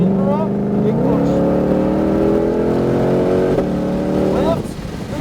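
A GT500 engine accelerates on a racetrack, roaring loud and close with rising revs that step up through gear changes, then eases off at the end.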